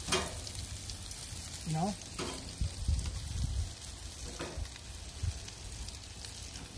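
Gulf shrimp sizzle and crackle steadily over the heat of a home grill, with soft scraping and a brief spoken word heard over the continuous frying hiss.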